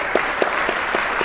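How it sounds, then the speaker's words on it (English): A church audience at Grace Lutheran claps briefly for Sandy, a short burst of close, distinct handclaps at an even rhythm. "how about we give Sandy a huge round of applause here for his work"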